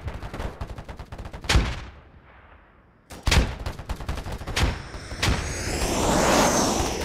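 Bursts of gunfire in a shooter video game, several sharp shots and rapid volleys spread through the stretch, loud and close, with a quieter gap in the middle and a rising hiss toward the end.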